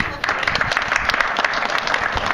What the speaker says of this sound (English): We need to give a round of applause